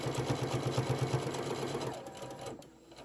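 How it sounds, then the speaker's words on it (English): A sewing machine stitching a Halloween-print fabric bowl koozie, a rapid even rhythmic whir for about two seconds before slowing and stopping. "So I'm just going to sew."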